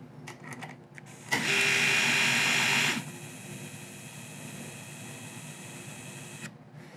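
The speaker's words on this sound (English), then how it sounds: "I'm going to use this 1/4-20 hex bolt and a steel flat washer and tighten them down into the first hole." A power tool runs down a 1/4-20 hex bolt with a steel flat washer into a hard joint, giving one loud, steady whine of about a second and a half that stops abruptly, amid quiet workshop ambience.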